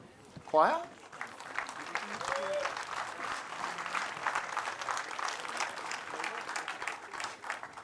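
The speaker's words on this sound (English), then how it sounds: "Please give a big round of applause for Genesis Choir." A large audience at an outdoor national festival bursts into sustained applause for a choir, dense steady clapping that carries through to the end, with a brief vocal cry right at the start.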